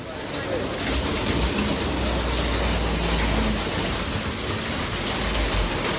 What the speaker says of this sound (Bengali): বৃষ্টির তাণ্ডবও বাড়ছে